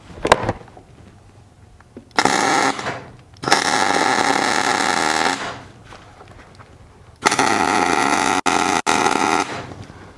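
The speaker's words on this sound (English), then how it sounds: "Let's weld this on there and see if that works." Welding a nut onto a wheel lock nut, a loud crackling, buzzing arc heard close up in several bursts of a second or two with brief gaps between them, and no talk.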